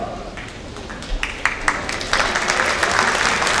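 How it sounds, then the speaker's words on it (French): Scattered clapping that builds into steady applause from a crowd at a mayor's New Year greetings ceremony in Saint-Mandé, 2024, growing denser and louder toward the end. "c'était vivement applaudir"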